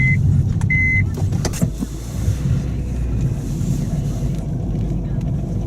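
Car engine droning loudly and steadily while pushing through snow after being stuck, with wind buffeting, a couple of brief beeps and clicks early on, and someone speaking briefly over the noise.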